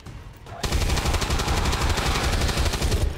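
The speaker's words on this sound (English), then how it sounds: "Let's just hope that turret doesn't shoot our guys." An automated turret fires in XCOM 2, a loud, close, continuous stream of rapid shots that keeps up a hammering rhythm for about three seconds with no talk.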